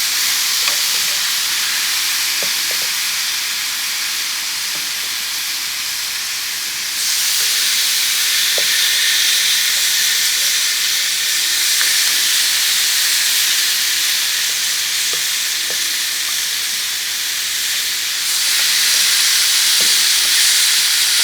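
Pork chops sizzle loudly on a grill burner, a steady, bright hiss and crackle that runs the whole way through and swells louder in two stretches, with no talk over it.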